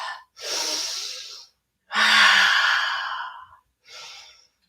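Deep breaths held in a yoga backbend: a long airy inhale, then a fuller, louder exhale with a faint vocal edge, and a short breath starting at the end, close and alone, with silent gaps between.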